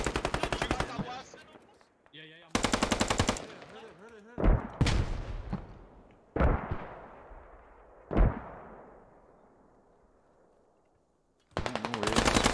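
Loud bursts of automatic gunfire in the video game Squad, with several separate volleys and single sharp shots. Each decays into long echoing tails, and there are quiet gaps between them.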